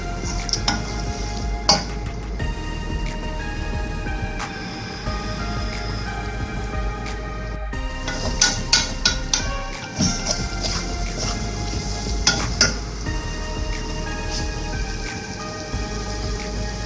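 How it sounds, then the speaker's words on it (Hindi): Macaroni is stirred in a cooking pan in steady close clinks and scrapes with a faint sizzle underneath and a few sharper knocks on the pan. "इसको जरा मैं 1 मिनट के लिए ऐसे मिक्स करूंगी।"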